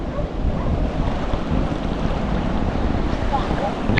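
Strong sea current and crashing surf during a typhoon, a dense, continuous roar of water and wind buffeting the microphone, loud and close.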